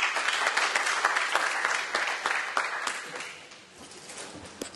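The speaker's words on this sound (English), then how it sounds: "Please welcome Mr. Nanda with a big round of applause." A conference hall audience applauds to welcome a speaker, steady moderate clapping that gradually thins and softens toward the end.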